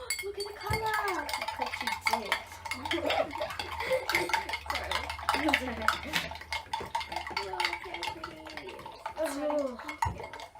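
Slime ingredients are stirred in a bowl with a stream of clinks, scrapes and taps from a utensil against the sides, close up, while children and an adult talk over the mixing.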